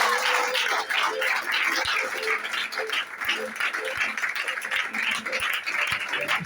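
A church congregation claps and shouts acclamations in praise of Jesus, a steady wash of applause with scattered sharp claps and raised voices throughout.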